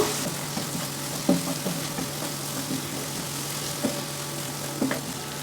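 Onion, a little garlic paste and tomato sizzle steadily in a pan while being stirred, with a constant low hum underneath and a few soft scraping knocks from the utensil, no talk.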